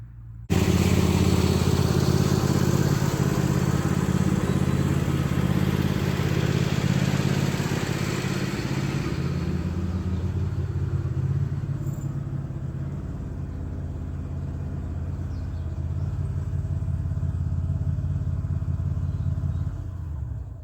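A small red tractor's engine rumbles loudly up close, then fades slightly as it drives away, leaving a steady low running drone behind.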